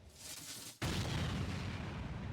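A loud explosion erupts in Final Fantasy XIV, a sudden heavy burst that stays as a dense rumbling roar after a brief quieter lead-in.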